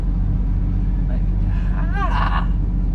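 Road traffic passing beside a gravel pit, a steady loud rumble of engines and tyres with one vehicle sweeping past up close midway before the noise settles back to a continuous drone.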